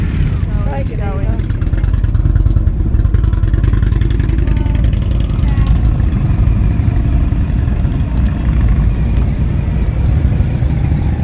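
A motorcycle engine runs steadily close by on a Black Spur group ride among Indian bikes, a continuous loud rumble with slight revs, while people talk over it.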